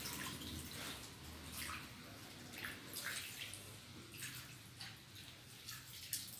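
Water poured into the soil of a potted mulberry plant, soft splashing and gurgling bursts that come in uneven pulses, close and quiet.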